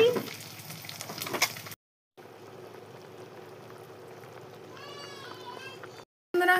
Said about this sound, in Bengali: এদিকে দেখো আমি ডিমটি ভাজছি।